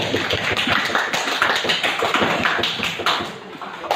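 Classroom applause from a group of students, a dense run of claps filling the whole stretch at close range and steady loudness, with no talk over it.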